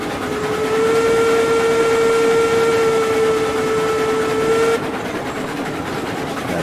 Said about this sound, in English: Let's hear that whistle.